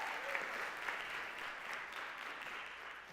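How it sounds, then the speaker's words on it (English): Steady applause fills a conference keynote hall at a social media event, a dense even wash of clapping from a large audience with no speech over it. "Let's get another round of applause."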